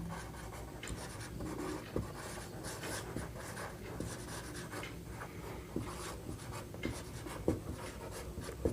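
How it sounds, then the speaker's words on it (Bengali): Pen or marker writing out a physics solution in short strokes, with steady scratchy scrawling and small taps throughout, close and fairly quiet, with no talking. "সংক্ষেপে লিখছি"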